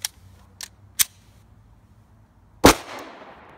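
Metallic clicks and clacks from handling a Magpul Glock pistol magazine: a few sharp light ticks, then a loud metallic clack as the slide locks back and the magazine drops free, ringing briefly.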